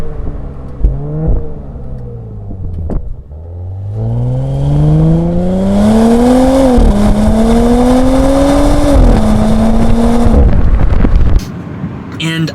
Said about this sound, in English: throwing it into dynamic mode opens that exhaust up just a little bit more, and you get some cracks and pops as you are going between the shifts